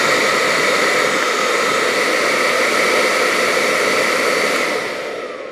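BaByliss 3Q hair dryer blowing with a steady, loud rushing roar of air and motor whine, close by, slowly fading at the end as it winds down.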